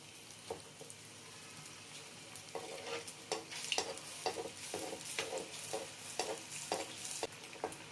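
Suzhiyam frying in hot oil, a low continuous bubbling sizzle with repeated soft splashes as oil is ladled over, fairly quiet and with no talk.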